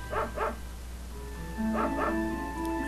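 A dog in the video game Secret of Evermore gives two pairs of quick, high yipping barks over sustained background game music tones.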